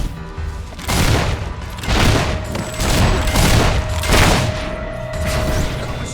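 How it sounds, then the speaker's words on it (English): A fire spell cast in the fantasy game Fable 3, heard as a series of loud booming, crackling bursts that swell and fade in repeated waves over a few seconds. "That was some kind of fire spell."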